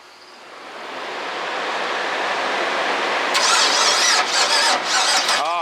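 Worn 5.3L LS V8 in a Foxbody cranking over, with a rising starter whir that catches into a rough, loud running engine close by, followed by a few uneven bursts and stumbles.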